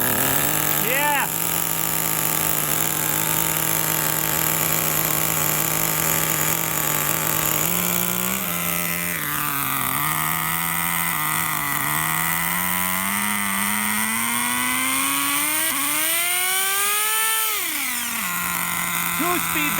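An Exceed nitro rally monster truck's small engine buzzes continuously at a fast idle, then rises and falls in pitch through a few throttle blips, close and loud.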